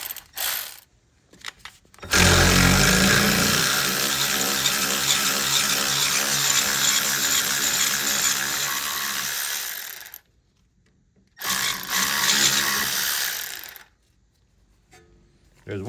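A 7 mm socket ratchet clicks rapidly while backing out rear brake caliper pins on a BMW E31 840i, loud and close in two long bursts separated by a brief pause.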